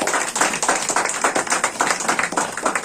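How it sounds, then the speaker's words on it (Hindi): A church congregation claps together in a steady, dense rhythm at close range, with no talking over the sound. "जोरदार ताली बजाइए।"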